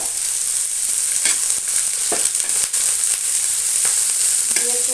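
Chopped garlic, green chili and ginger sizzle in a hot pan during Bengali cooking of banana flower with fenugreek, a constant bright frying hiss broken by occasional scraping stirs.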